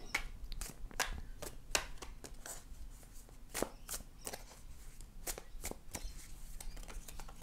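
Tarot cards shuffled by hand in a series of crisp, irregular riffles and slaps, close and fairly quiet with no talking.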